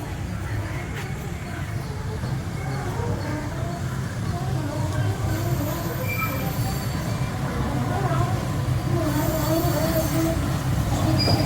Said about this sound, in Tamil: இங்கே நில்லுங்க, வாங்க பார்க்கலாம் ட்ரெயின்